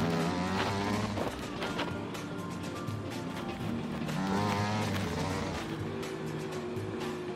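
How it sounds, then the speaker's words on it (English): Dirt bike engine in MX vs ATV Legends revving to full throttle at a start line, loud rising and falling whine with rapid throttle blips, close and alone. "Rev your engine to full throttle."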